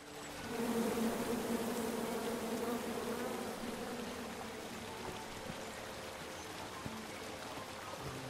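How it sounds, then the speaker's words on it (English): Bees buzzing in the King's Quest video game, a steady, droning hum that swells early on and then holds at a fairly even level, with no talking. "Come at me, bees!"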